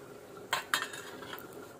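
A wok and metal pans are handled beside a wood-fired stove while a Malvani fish dish is readied, giving two sharp close clanks followed by a few softer rattles.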